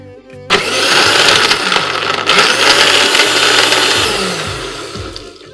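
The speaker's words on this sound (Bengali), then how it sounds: "আজকে আমি আমার এই ড্রিঙ্কসটা তৈরি করে দেখাবো ভিশন ব্লেন্ডারে।" A Vision blender whirs loudly, blending grapes for a sweet-and-sour grape drink. It starts abruptly after a brief quiet moment and holds a steady, dense motor roar to the end, with no talking.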